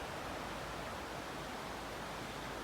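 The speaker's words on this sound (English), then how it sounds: "There's a big creek running just beyond that barbed wire fence right there." A big creek runs just past a barbed wire fence, giving a steady, broadband rush of flowing water that stays constant and unbroken throughout, with no voices.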